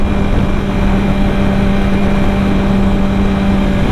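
Yamaha R25 motorcycle engine running loud and steady, a constant droning hum with a fixed tone and no clear revving, heard close with wind-like noise over it.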